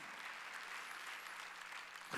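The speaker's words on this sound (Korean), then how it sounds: "박수치라 이 얘기 된다." Faint, distant applause rises from a church congregation during a Wednesday worship service, a soft continuous patter of many hands clapping throughout.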